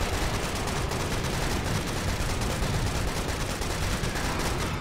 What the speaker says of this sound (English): Just unloaded a whole mag into him.